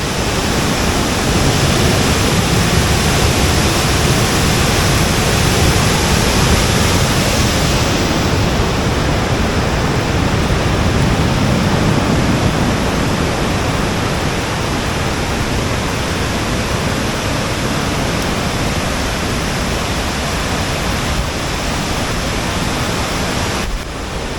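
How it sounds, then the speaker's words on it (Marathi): Loud, continuous roar of a waterfall near Shri Dhutpapeshwar temple, a dense, steady rush of falling water that fills the whole clip with no voices. "तिकडे खाली मोठा धबधबा आहे आणि इकडे एक धबधब्याच्या अगोदर देखील एक इथे धबधबा आहे"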